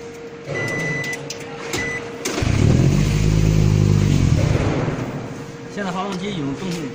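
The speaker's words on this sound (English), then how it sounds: "Now we start the engine." A Toyota Prius hybrid engine on a training platform starts up with a low rumbling surge that holds for a few seconds and then eases off, while a faint electronic tone and beeps sound around it.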